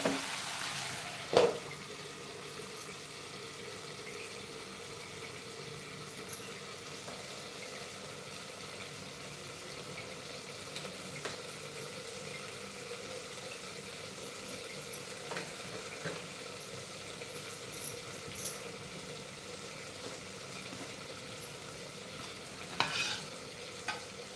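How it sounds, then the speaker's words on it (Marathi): Okra masala cooks in a pan over a medium flame, a faint, steady simmering sizzle with occasional light clinks and scrapes, heard alone without talking. "आपण गॅसची फ्लेम मिडियम करूया आणि भेंडी शिजायला ठेवून देऊया"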